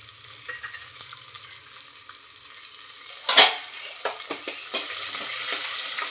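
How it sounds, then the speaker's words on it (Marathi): Peanuts and onion frying in a pan for masoor pulao, a steady soft sizzle with one sharp burst of hissing midway and a few scraping stirs afterward, fairly close, no talking. "त्यानंतर आपण यामध्ये शेंगदाणे आणि कांदा टाकून घेणार आहोत।"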